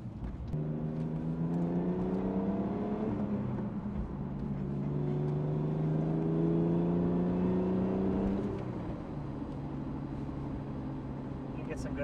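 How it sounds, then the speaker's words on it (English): BMW E46 330i engine breathing through headers and a universal valved muffler with the exhaust valves closed, a smooth mellow drone that climbs in pitch, drops, then rises again before easing off, steady and close. "with the exhaust valves closed, it's very docile in here"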